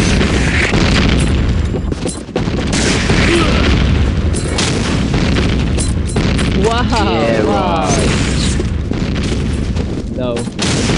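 Cannons or artillery fire in a video game, with heavy booms and gunfire-like blasts rolling almost continuously at high volume while voices shout over the battle.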